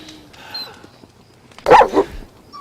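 A dog gives a short burst of two or three loud, close barks after a quiet stretch of faint background sound, in a Western drama set in frontier Deadwood.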